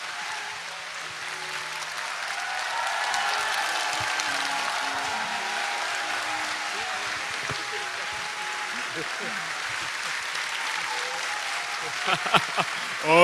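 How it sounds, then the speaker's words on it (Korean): Audience applause greeting Seoul mayor Park Won-soon on stage at a Hankyoreh 25th-anniversary talk concert, a broad, sustained roar of crowd clapping that swells and holds, with a few louder bursts near the end. "큰 박수로 맞이해 주십시오."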